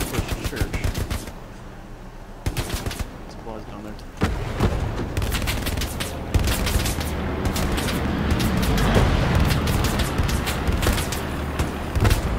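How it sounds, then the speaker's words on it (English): Grenade blasts and rolling gunfire in the World War II shooter Hell Let Loose, with heavy booms and sharp cracks, some close and loud, others distant, while players talk over the fighting. "They're throwing nades from the bottom of the hill"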